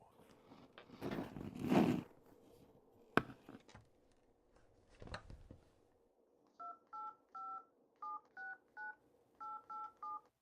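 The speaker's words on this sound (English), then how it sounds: "Detective Romero decided to contact the witness's mother again, this time by phone" Touch-tone telephone keypad being dialed, a run of about a dozen short, evenly spaced dual-tone beeps in quick groups, preceded by faint handling clicks and rustle of a handset being picked up.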